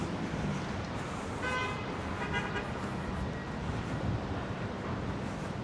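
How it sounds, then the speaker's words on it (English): Afternoon city traffic on a Manhattan street hums steadily under wind buffeting, with two short car horn toots sounding in quick succession near the middle. "Now, where do these cars think they're going?"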